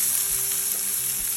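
Salmon and broccoli sizzle loudly in a hot pan as they are flipped, a dense, continuous hiss with faint low knocks from the turning.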